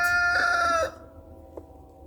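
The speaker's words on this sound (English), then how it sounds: "Rooster wants to chime in on this." A farmyard rooster crows once, loud and close, with a long harmonic call that cuts off after under a second, leaving quiet outdoor background and a faint short noise.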